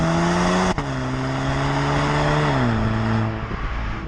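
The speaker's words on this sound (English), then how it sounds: "You get the exhaust noises once the car is in dynamic." A 2019 Audi TT 2.0 TFSI in dynamic mode sends out a loud, steady exhaust drone, holding a constant note before the revs drop and ease off near the end.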